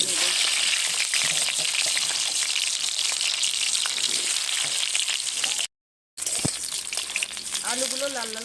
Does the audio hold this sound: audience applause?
no